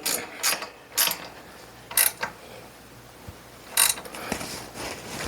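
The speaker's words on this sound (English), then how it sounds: "Switch up power ratchet." A power ratchet works a very tight frame bolt loose on a Brunswick A2 bowling pinsetter, giving several short whirring, clicking bursts with pauses between them, close and alone.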